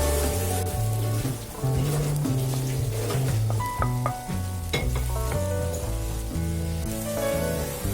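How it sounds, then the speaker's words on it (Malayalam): Oyster mushrooms and tomato sizzle in a pan as a steady frying hiss, with occasional stirring clinks, partly masked by louder background music. "അപ്പൊ നമുക്ക് ഇതിലേക്ക് കൂൺ ചേർത്ത് കൊടുക്കാം."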